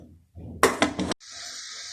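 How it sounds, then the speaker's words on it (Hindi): A metal lid set onto a cooking pot of boiling corn cobs in water with oil and salt: a short scrape, then a few quick clanks, followed by a steady hiss of steam, close and alone. "अब मैं ढकना देने लगी हूँ ऊपर।"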